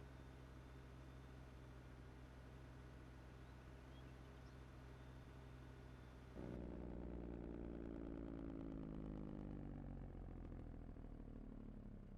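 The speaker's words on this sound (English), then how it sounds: "I probably should have shut my tractor off" Tractor engine idling in the Farming Simulator video game, a steady low mechanical drone that grows louder and rougher partway through and runs continuously with no talk.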